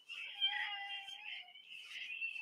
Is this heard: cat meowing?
yes